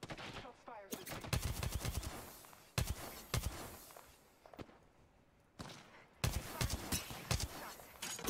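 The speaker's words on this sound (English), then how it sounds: "Shots fired at me." Bursts of rapid gunfire aimed at the player in a shooter video game, sharp clustered cracks arriving in three separate volleys with quieter gaps between them.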